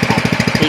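A small irrigation water pump engine in a chili pepper field runs steadily, its rapid regular thumping pulses close and loud with no pauses.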